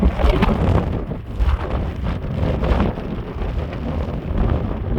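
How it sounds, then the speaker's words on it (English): Blizzard wind roars and buffets without pause, driving blowing and drifting snow in cold December weather, loud and close with heavy gusts against the microphone. "it's just a lot of blowing and drifting snow, and it's cold"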